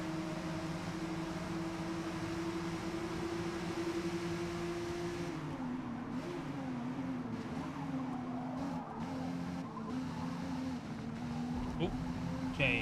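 Ferrari engine from the Forza Motorsport racing game, a loud steady drone that rises and shifts pitch as it accelerates, with tyre noise and a speaking voice over it.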